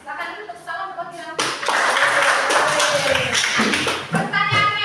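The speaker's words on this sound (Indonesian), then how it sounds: "Silakan dulu tepuk tangan buat bilang." Classroom pupils clapping for a classmate, a burst of quick hand claps that starts after a short spoken prompt and fills the room for a few seconds, with a teacher's voice heard around it.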